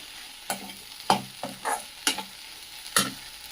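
Okra stir-fried in a pan on a low flame, with about five distinct scraping stirs at an uneven rhythm and a faint sizzle between them, close and quiet, no talk.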